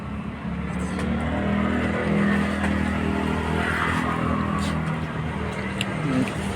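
A tractor engine runs steadily nearby, a continuous low mechanical drone with faint voices in the background.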